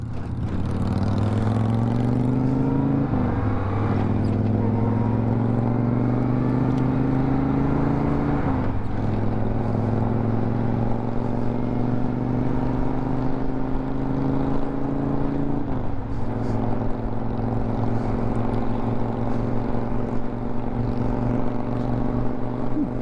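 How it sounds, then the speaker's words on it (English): A 1990 Honda Goldwing motorcycle heard while riding, a loud steady engine drone that rises in pitch through each gear, then drops sharply at three shifts, with constant wind rush and no voices. "now I am on a 1990 Honda Goldwing"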